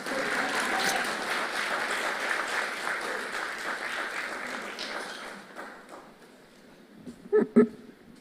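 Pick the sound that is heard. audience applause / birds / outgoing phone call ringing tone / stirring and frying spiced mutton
audience applause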